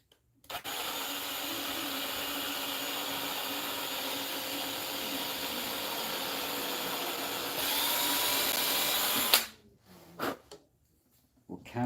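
A power drill countersinks screw holes in wood for a mallet build, a steady loud whine running for about nine seconds, rising slightly near the end before cutting off, followed by a few short clunks.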